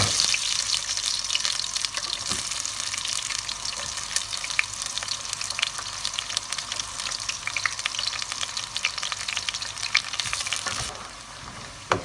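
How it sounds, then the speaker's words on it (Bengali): Sliced onion fries in a pot with a cup of oil, a steady close sizzle with occasional stirring clinks, fairly soft and continuous before easing near the end. "পেঁয়াজটা ফলা দিবা"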